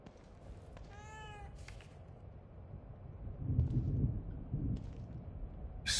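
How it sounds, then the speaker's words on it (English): A cat meows once in the video game The Evil Within 2, a single clear mew early on over a low, rumbling ambient backdrop with a few soft thuds later. "Cat? I don't ever remember owning a cat."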